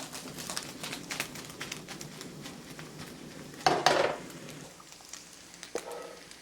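Bacon frying in a pan with no oil or butter, a soft sizzle and patter under a few clinks and scrapes of a utensil against the pan, close up and moderately quiet.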